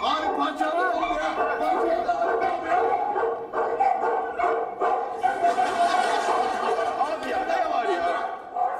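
A dog barks and yips repeatedly near a doorway, its agitated barking mixed with excited Turkish-speaking voices throughout.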